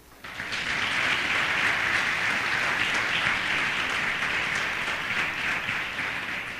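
A church congregation applauds during a sermon, sustained, even clapping from a large crowd that starts abruptly and continues strongly for over six seconds with a slight fade at the end.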